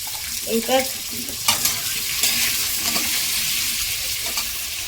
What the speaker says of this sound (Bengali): একটু আলুটা ভেজে নিচ্ছি, একটু হলুদ দিয়ে দিচ্ছি